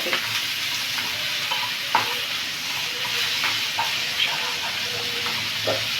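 Bitter gourd curry sizzles in a pan while a spoon stirs it, with a constant frying hiss and scattered scraping knocks close by and no talking.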